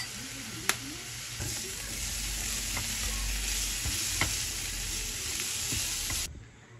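Carrots fry in sesame oil in a pan for bibimbap, giving a steady close sizzle with faint stirring scrapes and a few sharp clicks throughout, then ending abruptly.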